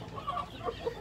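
Laying hens and a cockerel in a poultry farm laying house cluck in short, repeated calls at moderate distance. Nest boxes are bedded with sawdust, and no one speaks.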